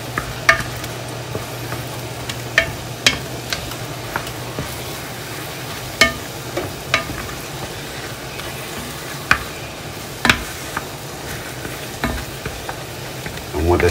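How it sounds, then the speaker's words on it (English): Vegetables and sausage for gumbo stirred in a pot over medium heat, a steady soft simmer broken by repeated sharp scrapes and clicks of the spoon against the pot, close and alone. "Still don't want that to burn. So I'm going to keep stirring it."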